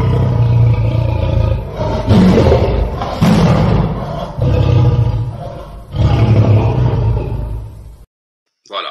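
A channel intro jingle bursts in with loud roaring, lion-like calls over heavy booming thuds in repeated waves, then cuts to near silence at the end.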